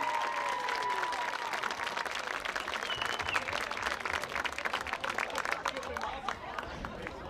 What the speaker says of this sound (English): How about a round of applause for our football seniors